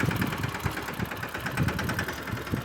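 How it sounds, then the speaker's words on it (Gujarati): A mini tractor engine chugs steadily as it turns in a farm field, a close rapid rhythmic knocking drone with a slight rattling vibration and no voices. "હાલો ટ્રેક્ટર વારે છે, મિની ટ્રેક્ટર"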